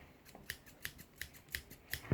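A pair of scissors snips repeatedly while failing to cut, giving about six sharp metallic clicks at an even pace, close and fairly quiet.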